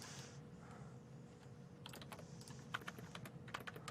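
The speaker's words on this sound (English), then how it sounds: "Type, type, type. Type, type, type, tab, tab, type, type, type, type, type, tab, tab." Typing on a computer keyboard during a programming session, quiet and close, with bursts of rapid clicking keystrokes in uneven clusters over faint room hiss.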